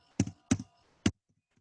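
Keys on a computer keyboard are tapped in a short, quiet burst of three crisp clicks, two close together and one after a brief pause.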